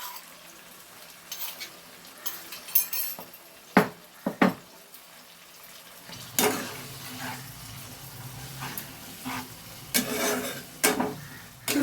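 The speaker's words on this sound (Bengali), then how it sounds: "নেড়ে চেড়ে নিচ্ছি" Chana matar with crushed ginger and green chili paste stirred in a pan, with a spoon scraping and knocking against the metal in irregular clacks over a steady frying sizzle that grows louder partway through.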